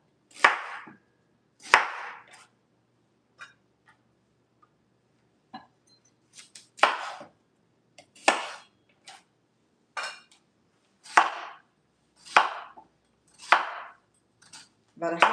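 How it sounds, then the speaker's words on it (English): A kitchen knife chops vegetables into half-inch slices on a cutting board, giving sharp, close, separate chops in uneven bursts with short quiet gaps between them. "Cut the ends off."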